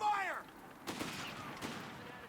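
Air support strafing run in Company of Heroes 3: a tonal whine sweeps down at the start, then two sharp bursts of gunfire crack out close and loud, trailing into a rumbling wash.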